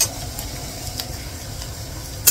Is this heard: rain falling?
no